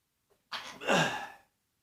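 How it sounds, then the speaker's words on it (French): A single sneeze bursts out close to the mic, with a short intake of breath before it and a breathy release after. "Là, je vais éternuer."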